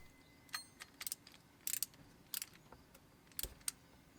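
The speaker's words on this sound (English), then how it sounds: "Now I will tighten them lightly with a ratchet using a star pattern." A ratchet tightens water pump bolts on a 2ZR-FE engine in a Toyota Corolla, giving faint, scattered short clicks in small bursts against a quiet background.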